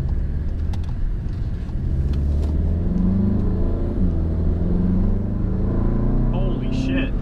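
A tuned VW MK7 GTI with a Cobb DSG tune accelerates and holds its gears longer, making a steady engine drone inside the cabin as the revs climb gradually. A driver talks over the sound.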